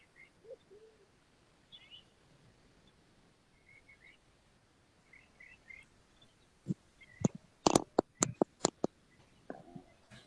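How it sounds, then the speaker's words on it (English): Birds chirp and call faintly in the background behind a remote speaker, scattered short tweets and trills at a distance, with a few sharper clicks and thumps near the end. "I can hear the bird song as your background today."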